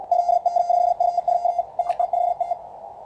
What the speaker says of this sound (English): The Morse code in the background you may hear comes from my brand new QCX Mini